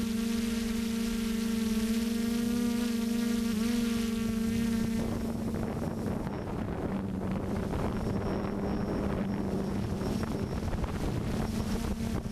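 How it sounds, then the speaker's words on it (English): DJI quadcopter drone hovering in place at its final waypoint, a steady close buzzing whine of rotors with shifting pitch and wind noise over the microphone. "As soon as the quad reaches the final waypoint, it just hovers in place."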